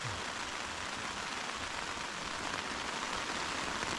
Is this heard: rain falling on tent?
yes